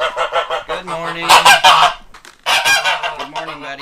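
Loud, close geese honk repeatedly in raucous overlapping bursts, with a brief lull before another burst of honking.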